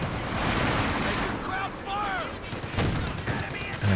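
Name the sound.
anti-tank gun firing at a Panzer IV in the video game Company of Heroes 2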